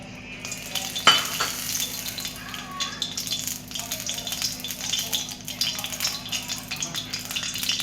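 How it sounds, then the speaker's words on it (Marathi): Oil poured into a hot kadhai for a bitter gourd dish, faint sizzling and crackling with occasional clinks of utensils against the pan, a sharp metallic knock early, close but quiet. "तेल घालते त्याच्यात आता थोडंसं"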